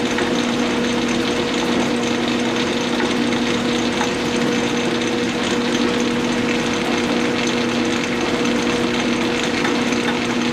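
A knurling tool being cranked into a knob on a lathe makes a steady grinding hum over the machine's constant running drone, loud and unbroken.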